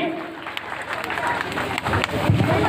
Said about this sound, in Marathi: जोरदार टाळ्या होत्या या सर्व टीमसाठी।